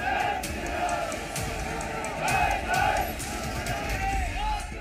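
A large crowd of saffron-clad Hindu protesters in Udaipur roars and chants in rising and falling waves of massed shouting, dense and continuous, with individual voices standing out at moments.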